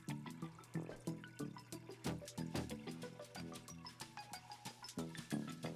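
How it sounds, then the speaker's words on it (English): Water pump running in an Aquatree garden tray, with soft liquid trickling and dripping in an uneven bubbling rhythm, faint and close, alone without talk. "I'm just gonna plug this pump in. That way you can see it running"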